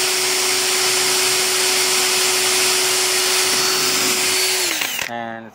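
A power drill whines steadily at high speed while cutting, then winds down and stops near the end.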